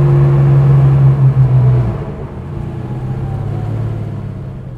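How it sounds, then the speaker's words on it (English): A Porsche 964 Carrera RS Clubsport tribute car with a modified exhaust drives by up close, its loud steady engine drone dropping to a softer, lower hum midway. "You can hear the modified exhaust."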